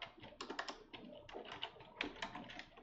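Rapid, close keystrokes on a computer keyboard in uneven bursts of quick clicks with short pauses, and no voices.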